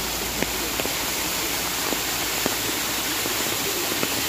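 Steady rushing water from a small rain-fed waterfall beside the Khagrachari highway in Bangladesh, a continuous broadband roar with faint scattered taps and splashes throughout.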